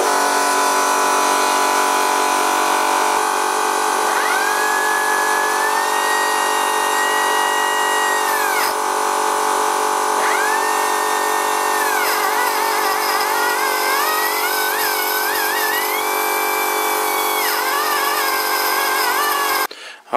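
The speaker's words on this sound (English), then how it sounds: "I guess I will need to switch on the compressor, and that will probably make more noise than that" A small workshop air compressor runs with a loud, continuous mechanical whine whose pitch shifts slightly, holding steady for about twenty seconds before cutting off abruptly.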